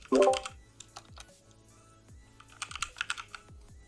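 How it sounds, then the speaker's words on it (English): Keystrokes on a computer keyboard, a quick burst of clicky typing at the start, a pause with scattered single taps, then another rapid run of keypresses near the end, close and clear with no voices. "Now we will add some text. We will type emotions,"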